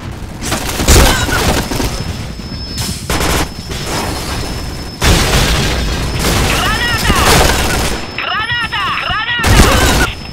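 A grenade blast and bursts of gunfire in the online shooter Point Blank, with loud repeated thuds and rapid shots through the clip, a sharp explosion near the start, and people talking over the chaos.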